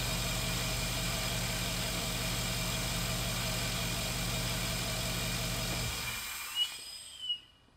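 Chevrolet Biscayne engine with a modified throttle body and no air cleaner idles steadily, a close, loud low rumble with faint hiss above it, then cuts off near the end leaving a couple of small knocks.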